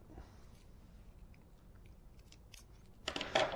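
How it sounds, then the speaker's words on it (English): Scissors snip through black electrical tape wrapped around a small motor for an ROV build, a short crisp cut near the end after quiet handling noises, close and fairly loud. "use the scissors to trim that"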